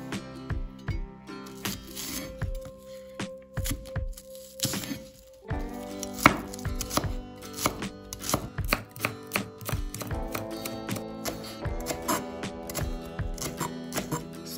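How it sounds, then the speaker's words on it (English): Knife chopping half a red onion and a spring onion on a cutting board, a steady run of crisp close taps with a brief pause midway, then quicker even strikes, no talk. "Cut half a piece of red onion. Cut one spring onion."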